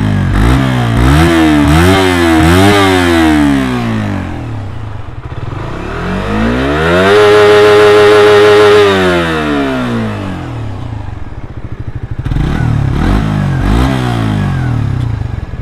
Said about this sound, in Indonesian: seperti itu suara knalpot standarnya.